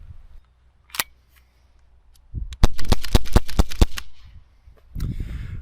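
Norica NAC 2021 .177 air pistol fired rapidly with lead-free pellets, a close tight burst of about seven sharp pops after a couple of isolated clicks, followed by a short rustle.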